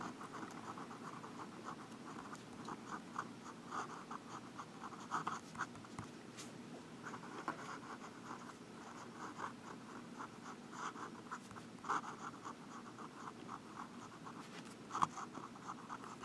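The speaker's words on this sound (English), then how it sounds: "Let's try some reverse writing." A vintage Omas Milord fountain pen writes in reverse on Rhodia paper, giving a faint, close, continuous scratching with soft rhythmic strokes and occasional small ticks over a quiet background.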